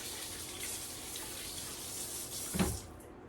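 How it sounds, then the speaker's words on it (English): Tap water runs steadily into a sink while hands are washed, a soft continuous gush with a brief louder splash near the end before it quiets. "We're gonna wash our hands really, really well."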